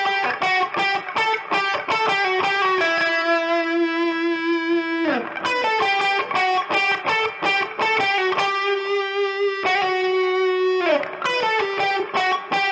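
Distorted electric guitar plays a riff at full speed, loud and driving, with fast picked runs broken by two sustained chords.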